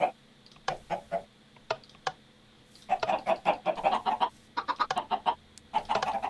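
Minecraft chickens clucking in a video game, with short, sharp repeated clucks in irregular bursts, sparse at first and then denser and overlapping, loud and close.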